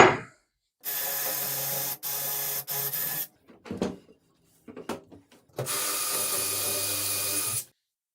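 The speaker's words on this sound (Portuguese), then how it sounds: "Eu vou pegar essa broca aqui e vou fazer o furo até essa marcação para poder entrar o meu suporte tipo espada" A drill bit boring a hole into a wall for an invisible sword-type shelf bracket, two loud whirring bursts broken by short pauses, then a few scattered knocks and a final long burst of drilling.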